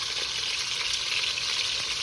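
Pork leg sears in hot oil in a pan, a steady, close broadband sizzle and crackle that holds evenly for the whole stretch with no voices.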